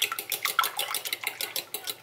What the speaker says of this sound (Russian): Чуть-чуть совсем присаливаю. И все это хорошо взбиваю.